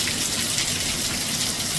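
Water pouring out and running across sloped ground toward a drain beside a house, a steady, fairly loud gushing flow heard close up without speech.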